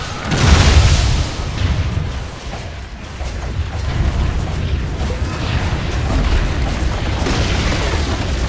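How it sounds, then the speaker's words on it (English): A Dota 2 tower collapses with a deep, rumbling boom that swells loud at the start, then rolls on as a sustained low crash and debris-like clatter throughout. "Radiant's bottom tower has fallen."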